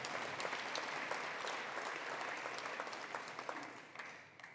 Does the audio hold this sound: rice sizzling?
no